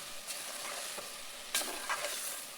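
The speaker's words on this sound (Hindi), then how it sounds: "और इस सब को हम मिक्स करेंगे और पकाएंगे।" Fenugreek leaves, potato and peas sizzle quietly in a pan while a spoon stirs them, with a soft steady fry broken by a few scraping strokes; no one speaks.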